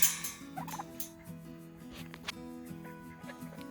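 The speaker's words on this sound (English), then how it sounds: "getting to the turkeys" Domestic turkeys gobbling, a blue slate tom and a Royal Palm hen, with a loud burst of calls at the start followed by scattered gobbles and clucks at close range, no talking.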